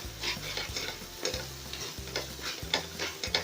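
Cashew nut paste for paneer butter masala being mixed in a pan, a steady run of scraping spoon strokes over a low, continuous sizzle, close and moderately loud.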